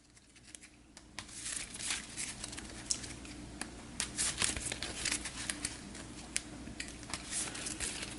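Playing cards shuffled by hand for an Arkham Horror-style board game campaign, a steady papery riffling and crinkling with soft snaps, close and alone, lasting several seconds.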